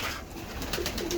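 Pigeons coo softly and repeatedly in a close, continuous murmur, the low throaty calls overlapping in a short burst.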